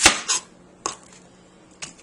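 A kitchen knife chops through the ends of a large onion on a cutting board, giving two quick sharp knocks followed by two more spaced taps, close and fairly quiet.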